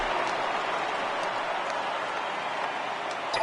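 A simulated baseball stadium crowd in MLB The Show 18 roars steadily during a postseason at-bat, a dense even wash of cheering with faint scattered clicks, no voice on top.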